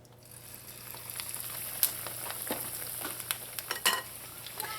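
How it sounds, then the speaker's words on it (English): Kale saheena dough, a Fijian fritter, frying in hot oil with a steady sizzle and scattered crackling pops up close, no one talking. "And then this goes into the hot oil."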